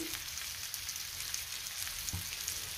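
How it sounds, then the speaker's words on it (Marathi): Chickpea-flour thalipeeth frying in oil on a flat griddle, a continuous even hiss and crackle like light rain, steady and close with no talk. "आता हे थालीपीठ मी तव्यावर टाकते"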